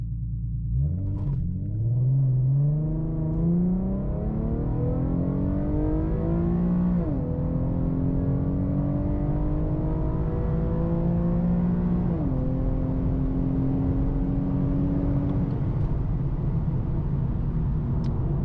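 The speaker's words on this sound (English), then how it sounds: "Now here's gonna be a quick little launch, just in sport mode, automatic shifting." An Infiniti Q50 3.7 launches in sport mode with automatic shifting, its engine roaring up through rising revs, dropping sharply at each of several gear changes before climbing again, loud and close from inside the car.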